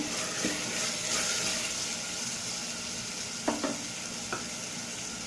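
Tomatoes sautéing in a pan with a little salt added, a steady close sizzle with a few soft stirring knocks and scrapes of a utensil, no talking.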